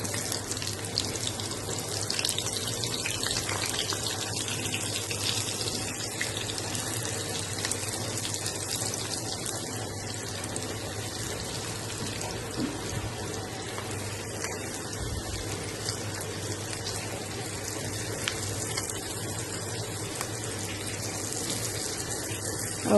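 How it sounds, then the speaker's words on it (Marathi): Stuffed bitter gourd (karela) sizzles in hot oil in a pan, a dense, continuous hiss and crackle that stays loud and even the whole time, with no voices. "तेल गरम झालेलं आहे, त्याच्यातून कारली सोडत आहे त्याला."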